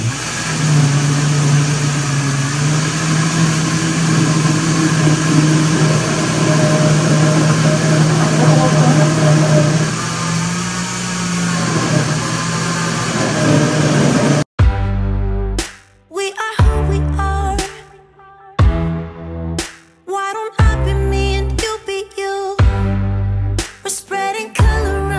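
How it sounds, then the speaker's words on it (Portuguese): A kitchen blender whirs loudly and steadily for about fourteen seconds, blending ingredients for a creamy chicken pie, then cuts off and music follows. "Primeiro eu vou bater esse aqui, depois eu coloco a outra, tá bom? Pra não pesar no liquidificador."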